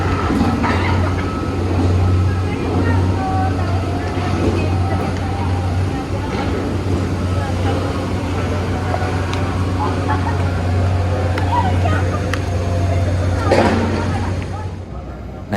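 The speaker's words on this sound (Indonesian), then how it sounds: "Nah ini ada kereta penumpang yang lewat." A KRL Commuter Line passenger train rolls through Manggarai station, a loud sustained low rumble with steady rail noise throughout and occasional higher clanks and squeals.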